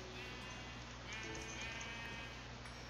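A Minecraft sheep gives a couple of wavering bleats over a steady hum, faint and brief.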